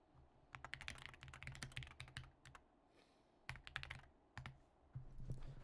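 Rapid bursts of typing on a computer keyboard, keys clattering in quick runs with short pauses between, fairly close and moderately loud over a low background hum.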